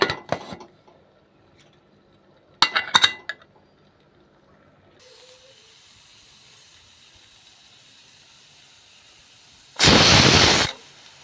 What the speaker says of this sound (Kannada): ಈಗ ಮುಚ್ಚಳ ಮುಚ್ಚಿ 2 ವಿಷಲ್ ಕೂಗಿಸ್ತೀನಿ.